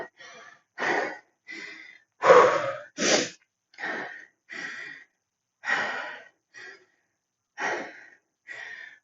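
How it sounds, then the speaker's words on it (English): Heavy, labored breathing after a strength workout, a series of about a dozen loud close gasping inhales and exhales in an uneven rhythm with short pauses between. "Breathing heavy today."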